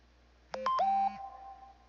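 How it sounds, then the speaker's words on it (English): Short phone text message notification, a quick chirpy sequence of clear electronic tones rising in pitch, then briefly ringing out in a quiet room with no speech. "That was a text notification that somebody just called my 20-minute message"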